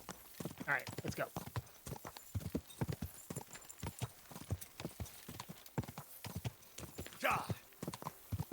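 Hooves clip-clop rapidly in a steady galloping rhythm in the video game Kingdom Come: Deliverance II, close and clear, with a brief whinny and occasional voices in the background.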